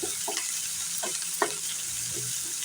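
Curry leaves sizzle and crackle in hot oil in a pan while a spoon stirs them in a few scraping strokes, all close and steady, with no voices.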